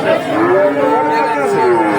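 At a livestock market, a cow gives one long, loud moo up close that lasts nearly the whole moment, standing clear above faint background noise.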